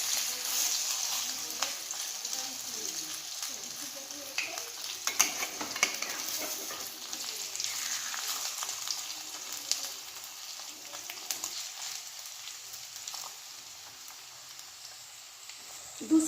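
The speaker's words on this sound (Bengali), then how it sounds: "দু সাইড খুব ভালো করে ভেজে নিতে হবে।" Chinese-style cabbage fritters with egg yolk fry in a pan and are flipped to brown both sides, producing a continuous close sizzle with scattered popping spatters throughout.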